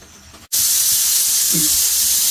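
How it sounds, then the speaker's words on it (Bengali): A pressure cooker on a gas stove, cooking beef curry, bursts into a loud, continuous hissing steam release after a brief quiet moment, sustaining a harsh rushing whistle to the end. "এই যে আমাদের প্রেশার কুকারে 5 নম্বর শীষটা উঠে গেছে"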